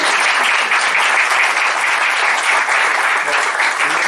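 Sustained audience applause at a Spanish book presentation, dense and steady throughout, loud and close with no pauses, the clapping of a full room filling the whole stretch without voices on top.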